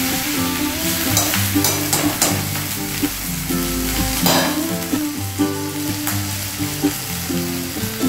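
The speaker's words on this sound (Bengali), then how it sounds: "তেল গরম হয়েছে। এবার আমি জল ঝরানো ডালিয়াটা ছেড়ে দিচ্ছি।" Drained dalia (broken wheat) hits hot oil and fries with a steady, bright sizzle, with occasional stirring, under continuous background music.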